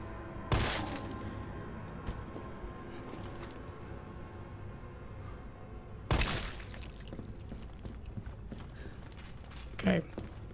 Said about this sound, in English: so I shoot him in the head with my pistol.